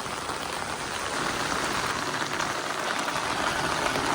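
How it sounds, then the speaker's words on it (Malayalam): Torrential rain falls without pause amid flooding, a thick, unbroken roar of droplets hitting the ground, close and loud, with a faint low rumble underneath and nobody speaking. "മഴ ശക്തിയായി വന്നുകൊണ്ടിരിക്കുകയാണ്."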